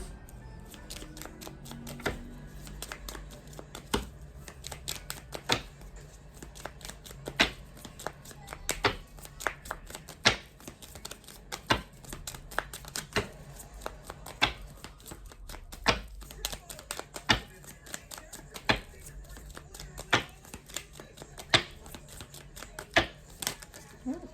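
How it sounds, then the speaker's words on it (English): Tarot cards being shuffled and pulled during a reading, producing a steady run of close, crisp clicks and snaps at an irregular rhythm, with soft handling rustle underneath and no speech. "Let's pull some more cards."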